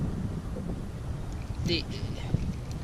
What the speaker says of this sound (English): It's a wonderful windy day out of the south.